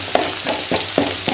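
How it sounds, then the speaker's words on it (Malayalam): Crushed chili and onion fry in a pan, a close, loud sizzle broken by four rhythmic scraping stirs, with no voices. "മുളക് ചതച്ച മുളക് ചേർക്കുവാണേ."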